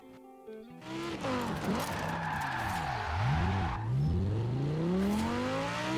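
A Datsun drifting in Forza Horizon 4, the engine revving up and down in sweeping swells over continuous tire squeal, loud and close.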